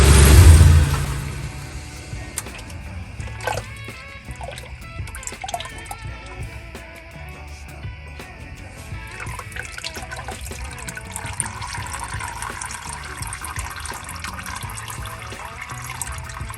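Fluid dribbling from a disconnected pipe on a 2007 Toyota Tundra 4.7L as the engine shuts off: a brief louder burst, then a steady, faint trickle and drip that runs on alone.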